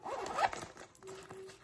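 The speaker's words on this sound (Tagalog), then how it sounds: "May zipper pa siya sa ilalim." A zipper on the bottom of a bag is pulled open in a quick close rasp, followed by softer rustling of the bag fabric.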